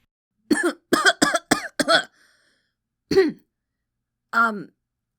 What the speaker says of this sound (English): She coughed, covering her mouth with a hoof, and looked to the side.